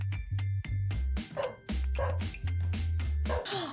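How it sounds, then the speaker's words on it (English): Several in-game dogs in The Sims 4 bark in quick, overlapping bursts close by, with a few higher yips mixed in, loud and steady throughout. "the dogs are barking"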